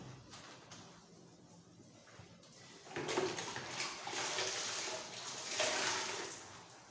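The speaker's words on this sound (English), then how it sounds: "I'm going to rinse again the walls with the clean water" Clean warm water is rinsed down tiled shower walls, a soft, steady rush and splash that swells in the second half of the clip, with no talking.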